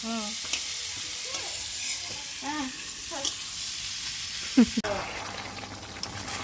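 Shrimp sizzle steadily in a pan over a home stove, a soft continuous frying hiss with a couple of stirring clatters, while people chat close by.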